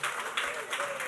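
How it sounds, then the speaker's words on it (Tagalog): A church congregation at a Sunday service breaks into broad, steady applause, many hands clapping together in a dense, close wash that holds for about a second with voices mixed in. "Pumalakpak ang lahat ng pinagpala."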